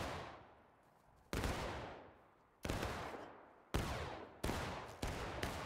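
Rifles crack off one after another in a Civil War battle in War of Rights, on the Smokestacks map. Five loud, sharp reports land at irregular intervals, each trailing into a long echoing decay with no talking.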